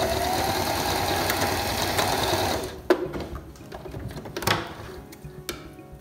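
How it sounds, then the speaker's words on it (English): A sewing machine edge-stitches a cloth face mask with a fast, steady whir and clatter for about two and a half seconds, then stops, leaving a few soft handling knocks and taps. "I'm just gonna stitch right along the edge here."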